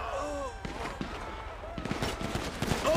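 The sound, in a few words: gunfire in shootout with cops, from video game GTA V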